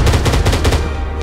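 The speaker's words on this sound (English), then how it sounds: "Good shooting, Gunner." Automatic gunfire from the combat game Arma 3, in a Halo-themed operation, rattles out as a loud rapid burst of shots for about a second before tapering off, with no voices.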